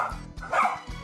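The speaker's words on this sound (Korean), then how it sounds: "송길이는 짖기 바쁜데요." Dog barking in a series of sharp, loud, close barks with short gaps between them, heard indoors during a home visit for dog behaviour training.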